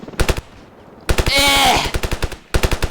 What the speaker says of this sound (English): I need to shoot him, man.